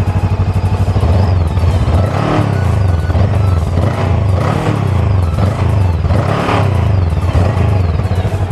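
A Xiangshuai Cangyun 500 cruiser motorcycle, warmed up beside the Yellow River, is revved hard several times. Each loud, close rise in engine pitch sits over a steady, deep idle rumble.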